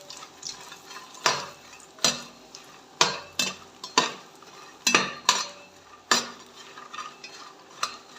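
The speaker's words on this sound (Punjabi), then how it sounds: "ਤੇ ਆਪਣਾ ਘਿਓ ਹੋ ਗਿਆ ਗਰਮ ਤੇ ਇਹਦੇ 'ਚ ਆਪਾਂ ਪਾ ਦਿੰਨੇ ਆ ਫੁੱਲ ਮਖਾਣੇ ਇਹਨਾਂ ਨੂੰ ਪਹਿਲਾਂ ਆਪਾਂ ਫਰਾਈ ਕਰ ਲੈਨੇ" Fox nuts (makhana) frying in hot ghee in a pan, a steady sizzle broken by repeated sharp scrapes and clatters as a spoon stirs them, with no talking.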